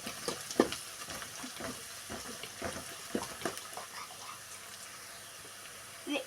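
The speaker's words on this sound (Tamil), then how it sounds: "வெங்காயம் நல்லா வணங்கிருக்கு அப்புறம் இஞ்சி கொஞ்சம் போட்டுக்கலாம்." Onion and ginger sauté in a pan for rava kichadi, giving a soft, steady sizzle with scattered stirring scrapes and clicks, close and fairly quiet.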